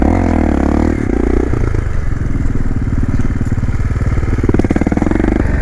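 Motorcycle engine droning loudly and continuously up close while the bike is ridden on a wheelie coaster, with pitch rising and settling as throttle changes and some rattling underneath.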